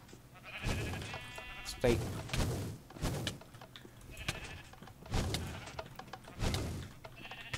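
Minecraft sheep bleating several times in short bursts among game thuds and clatter, with people talking over and between the bleats.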